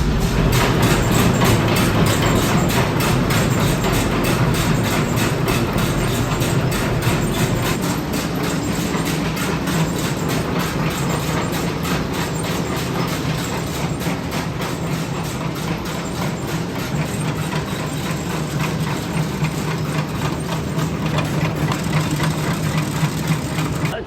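A hay baler runs off a tractor's PTO with no hay in it, a loud, continuous mechanical rumble and clatter with a fast repetitive knocking rhythm that holds steady throughout.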